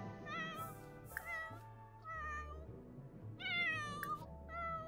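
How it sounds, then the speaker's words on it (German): Cats in The Sims 4 video game meow repeatedly, several close, clear meows one after another over soft game music. "Ach, die Kätzchen."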